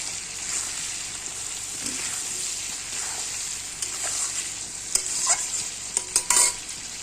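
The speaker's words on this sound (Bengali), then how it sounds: "মশলাটা আমি সুন্দর করে ভেজে নেব" Spices frying with potato and onion in a pan, a steady close sizzle with soft stirring scrapes and a few sharper crackles toward the end.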